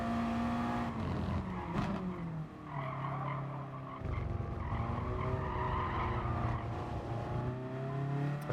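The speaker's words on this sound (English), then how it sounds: "And those squeaky noises that the cars make" Race cars in the video game Gran Turismo Sport squeal their tires through corners, a continuous high screech layered over steady engine drone that runs loud for the whole stretch, with a short dip partway through.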